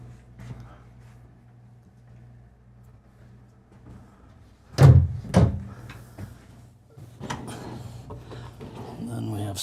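Wooden drawers in the bathroom of a 2026 Newmar Dutch Star 4081 Class A motorhome slide open and shut in a couple of quick knocks and rubs, with a person talking before and after.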